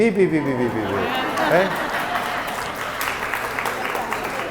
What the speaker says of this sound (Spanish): Y un aplauso para los 3.